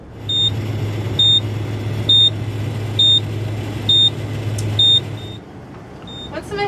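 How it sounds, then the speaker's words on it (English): A moisture testing machine in a dew point experiment emits six short, evenly spaced electronic beeps over a steady low hum, close and clear, followed by a brief fainter tone near the end. "Once the machine starts beeping,"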